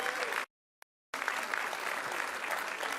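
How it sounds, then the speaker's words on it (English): Applause from a community gathering greeting Congressman Jamal Bowman, a steady wash of clapping that cuts out briefly near the start, then resumes and holds loud and dense to the end. "Let's give him a round of applause as well."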